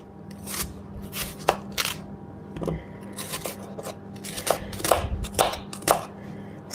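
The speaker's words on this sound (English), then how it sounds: "So I'm just dicing it." A vegetable is diced with a knife on a board in a home kitchen, making quick uneven taps and crunchy cuts in short bursts, close and moderately loud.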